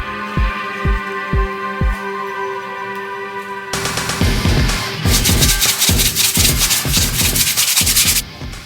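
Sandpaper rubs over the wooden hull of a model Australian couta boat, first a few light separate strokes, then a continuous run of loud, close, rhythmic back-and-forth scrubbing, with no voices.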